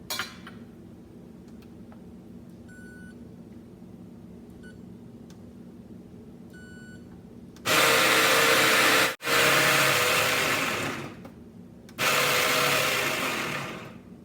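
An espresso bar grinder is run on a grain-like grinder-cleaning product to clear old grounds, oils and chaff. A few soft beeps and clicks lead to two loud whirring grinding bursts, close by, with no talking.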